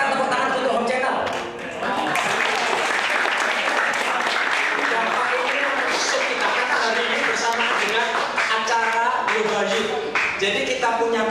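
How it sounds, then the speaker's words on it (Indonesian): Audience applause at a health expo fills the room, dense and steady for about eleven seconds, with a murmur of crowd voices mixed underneath. "kita tepuk tangan untuk Home Channel"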